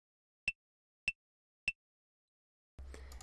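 Three evenly spaced, sharp wooden clave clicks from a metronome's clave sound setting, each crisp and isolated against silence, followed by a faint rise of background noise.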